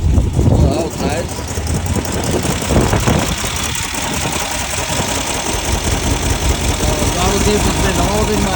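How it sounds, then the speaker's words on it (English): The air-cooled engine of a 1970 VW Beetle runs fast and loud with its throttle cable disconnected, holding a steady, rough drone up close, with someone talking over it. "We're gonna see how she runs without the throttle cable hooked up."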